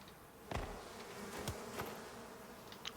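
Bees buzz in the survival game Icarus: faint, wavering insect drones with a few brief louder passes, over quiet ambient noise.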